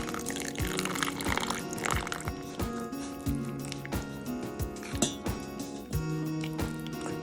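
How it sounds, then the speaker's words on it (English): Water being poured and stirred into a cement and crushed glass mix for terrazzo, giving wet squelching, sloshing and clinking sounds in an irregular rhythm, close up and fairly soft, with no one speaking. "Now I'm just going to mix this with water until I get sort of a Greek yogurt consistency."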